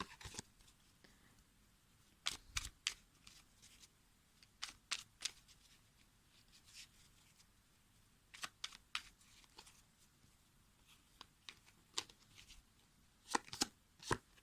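Tarot cards are shuffled and handled in quick, crisp bursts of riffling and snapping separated by quiet gaps, close and fairly soft.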